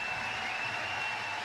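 A large arena crowd at the Motorpoint Arena applauding in a steady, dense wash of clapping that holds evenly through the short moment, with no distinct chant words standing out.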